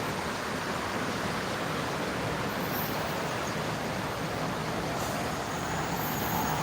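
Dense, steady roar of congested traffic on a toll road heading toward Jakarta, a broadband wash of engines and tires with no distinct passing vehicles and no talking.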